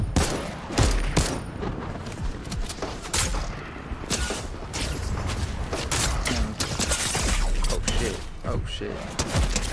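Video game gunfire crackles as a player shoots at a squad of four in a ranked Zero Builds match, with dense, rapid bursts of sharp shots and impacts throughout and a loud, busy mix.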